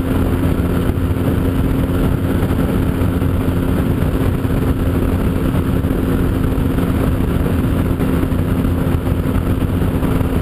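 Steady, loud engine drone of a BMW GS 1200 Adventure motorcycle being ridden on a curvy road, a continuous rumble with constant wind noise and no pauses or talk.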